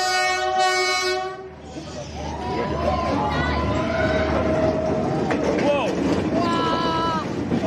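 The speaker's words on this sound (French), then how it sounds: "voir des trains de près, mais alors peut-être de trop près" A train in Vietnam passes very close, opening with a loud, blaring horn blast, then a roaring rush of wheels and carriages with screeching, squealing metal, all near and overpowering.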